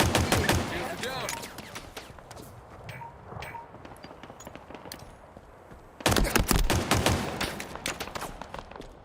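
Gunfire in a Halo video game: rapid bursts of shots and impacts, dense at the start, thinning in the middle, then a loud renewed barrage, with faint game sounds between.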